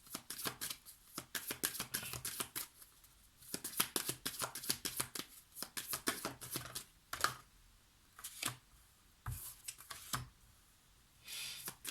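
Tarot cards are shuffled and drawn during a reading, with bursts of quick riffling flicks and soft slaps separated by short quiet gaps, close and fairly faint, no talk.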